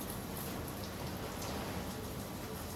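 Water pours steadily onto a banana plant in a garden, a soft, continuous hiss and patter that stays faint and even throughout.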